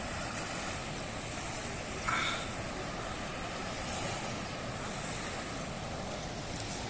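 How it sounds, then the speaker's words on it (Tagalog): Sea waves at a beach resort in Morong, Bataan, a steady soft wash of surf mixed with wind noise on the microphone, faint and continuous with no voices. "papansin nyo yung medyo maalon-alon, pero kering-kiri naman yung alon"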